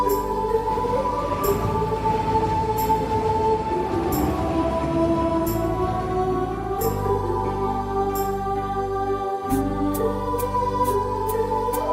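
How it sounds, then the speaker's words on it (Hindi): A train pulls in with a loud, sustained, droning tonal rumble, while sharp, regular wheel clicks over the rail joints speed up toward the end. "ट्रेन भी आ गया"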